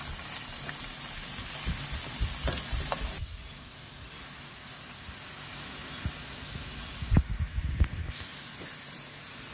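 Breakfast potatoes fry in a pan with a loud crackling sizzle that drops away abruptly after a few seconds. Quieter frying follows, broken by clattering knocks of a utensil against the pan near the end.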